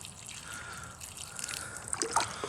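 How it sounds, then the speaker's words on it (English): Water trickles and dribbles onto freshly potted Sarracenia rhizomes, a soft continuous pour that grows a little louder and splashier toward the end, close by with no talking. "You water it up. You water it a little bit."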